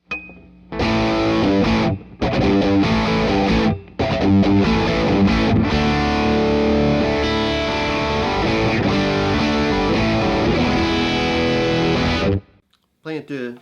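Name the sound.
electric guitar through distortion pedal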